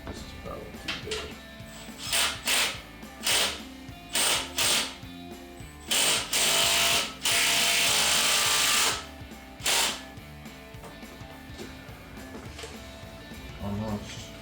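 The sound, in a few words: ratchet turning while installing a radiator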